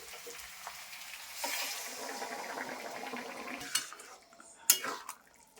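Hot water pours into a pan of cauliflower and potato curry frying in oil and spices. The sizzle swells sharply, then a few metal clinks and scrapes from pots and a spoon follow near the end.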